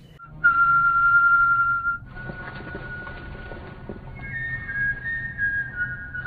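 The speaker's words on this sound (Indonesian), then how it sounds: "suara siulan yang sangat akrab menarik perhatiannya" A person whistles a long sustained tune in a prison film scene, a clear steady tone first loud and close, then continuing more faintly with other shifting whistled notes.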